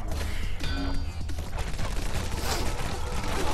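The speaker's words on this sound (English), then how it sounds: "I got a minigun!" A minigun rattles in a top-down video game, a dense continuous stream of rapid shots with crashing impacts that stays loud throughout, with no gaps.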